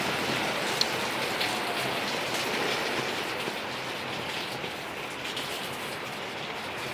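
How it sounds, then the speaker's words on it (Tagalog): Heavy rain falls steadily as Super Typhoon Uwan approaches, a dense continuous hiss of drops on surfaces with no wind yet, even and unbroken throughout. "Wala pa namang hangin pero ulan marami."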